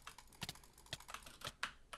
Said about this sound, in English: I just kinda fucking slap my finger on the mouse as fast as I could